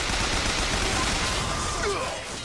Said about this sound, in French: Ma mitrailleuse chauffe un peu trop.